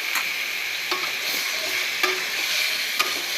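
Vegetables sizzle steadily as they fry in masala for a Bengali prawn curry with green chillies, with occasional scraping knocks of a spoon stirring the pan at close range and no talk over it.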